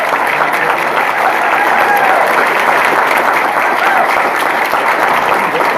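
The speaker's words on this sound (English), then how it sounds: "So give those folks a round of applause for working." Sustained applause from an audience at an annual meeting, steady dense clapping from many people filling the room at even loudness throughout.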